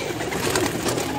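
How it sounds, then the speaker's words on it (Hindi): Pigeons handled by a keeper, soft low cooing close by, a murmuring throaty sound amid faint rustling and handling noise. "ये देखिए कबूतर"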